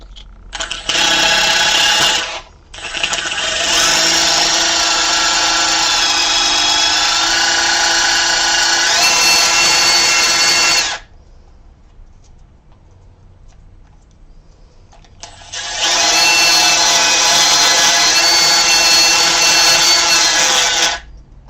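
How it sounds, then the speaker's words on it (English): A drill bit used as a side cutter grinds away soft plastic on a Ford Festiva fuel pump part, in two loud sustained bursts separated by a short pause and a longer quiet gap. "I should be able to use this drill bit, tacked as like a little side cutter here"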